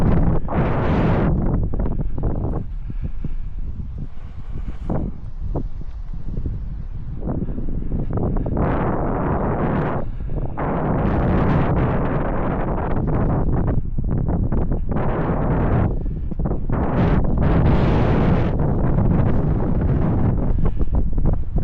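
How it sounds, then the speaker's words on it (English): Gusty wind on an airfield beside a 1960 Beechcraft Model 50 Twin Bonanza, roaring and buffeting the microphone in repeated heavy surges throughout. "It is windy."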